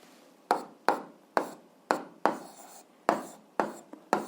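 Chalk strokes on a classroom board while algebra is written out, about nine sharp, evenly spaced taps and scrapes, close and fairly loud with no talking.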